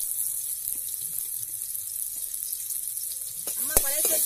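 Eggs frying in a pan with small onions, a chili and a little salt: a quiet, close sizzle with faint stirring clicks, then a sharper burst of crackle near the end.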